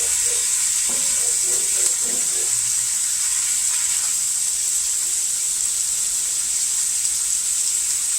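Chopped onions sizzle steadily in a frying pan, a constant bright hiss with a few soft clinks and stirring sounds early on, no talking.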